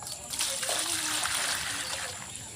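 Water from a well splashes and pours into a container, a steady broadband gush with light splatter throughout, close by, with faint voices in the background.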